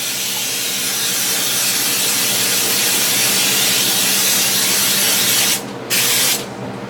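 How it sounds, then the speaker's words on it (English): A long, loud, close hiss of cooking spray greasing a cheesecake pan, briefly pausing near the end before a short final burst. "on a cheesecake, you always want to generously spray your pan"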